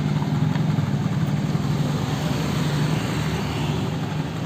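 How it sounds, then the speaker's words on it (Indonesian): A motorcycle engine, recently repaired after a knocking fault, idles steadily and evenly nearby with a smooth low hum and no talking over it. "Motor sudah halus kembali"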